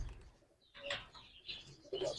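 Pigeons inside a breeding loft in Kolkata give off a few soft coos and short calls in bursts, fairly close, with faint rustling between them.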